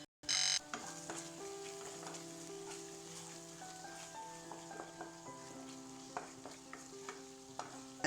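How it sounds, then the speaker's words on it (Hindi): Masala of tomato, garlic and onion frying in oil, a continuous close sizzle with occasional pops and light stirring clicks, steady throughout after a brief sharp start. "मसाला के पाइन सुखा कर तेल छोड़े तक खूब बढ़िया से भुजबाक छै।"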